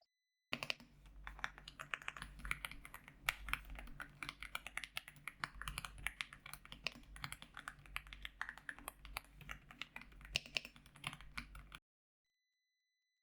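Steady typing on an Aula F75 mechanical keyboard fills roughly eleven seconds, a dense run of close, crisp keystrokes at an even pace with no talking.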